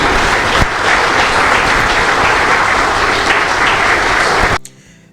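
Dense, loud applause from delegates at a FECAFOOT general assembly, a steady roar of clapping filling the hall that holds for several seconds and then cuts off abruptly near the end.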